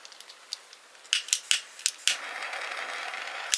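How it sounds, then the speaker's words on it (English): Scissors snip sewing threads off a fabric scrunchie in a few quick, close, crisp cuts, with small handling clicks between them and a soft rustle of fabric afterward. "And then you're going to cut the strings off."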